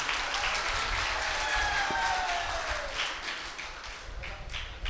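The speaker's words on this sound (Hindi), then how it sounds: "माइक पर तालियों से इस्तकबाल कीजिए" Audience at a mushaira in Moradabad claps steadily to welcome a poet to the microphone, a dense, sustained wave of applause filling the hall, with a faint voice or tone audible underneath.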